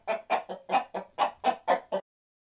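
A hen clucks eight times in a steady, evenly spaced series, close and clear with no other sounds.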